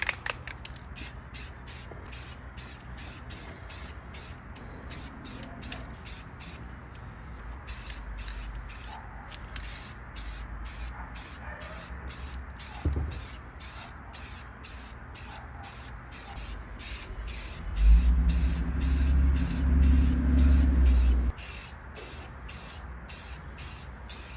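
Aerosol spray paint hisses in repeated short bursts and a few longer passes onto BMW E90/E92 brake calipers, with a steady background hum and a louder rumbling stretch near the end.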